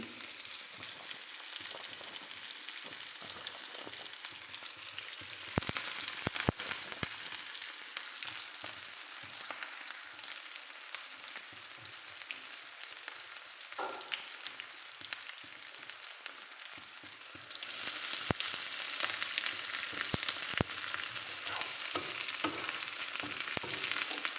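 Cumin seeds and chopped onion fry in a pan of hot oil, giving a steady close sizzle with occasional stirring scrapes and a louder burst partway through.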